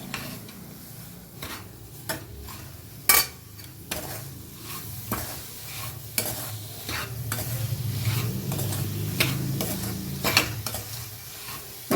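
Sweet amla chutney stirred in a pan over low heat, a spoon scraping and clinking against the metal in an irregular rhythm over a soft steady sizzle, close up with no talk.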